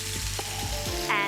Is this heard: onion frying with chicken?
yes